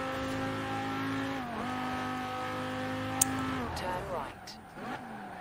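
A Lamborghini Huracan engine in Forza Horizon 4 holds a steady droning tone, then dips and rises as the revs shift through gears, with a brief tire squeal near the end.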